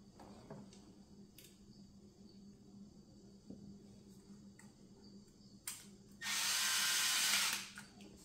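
A power drill runs in one steady burst of about a second and a half, driving small screws into a C6 Corvette F1-style paddle shifter, preceded by faint clicks and handling noises.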